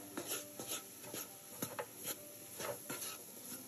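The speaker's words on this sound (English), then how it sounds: "Sprinkle flour, stirring 1 minute" Flour is stirred in a pan for a roux, with soft repeated scraping strokes of a utensil over a faint sizzle, quiet and close.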